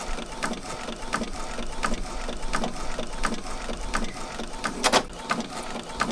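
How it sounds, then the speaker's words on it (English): A sublimation printer printing a transfer for a 20 oz skinny tumbler, giving a steady mechanical run with regular clicking pulses about every half second, moderately loud and close. "we're finishing up on the print. It's coming out very, very well."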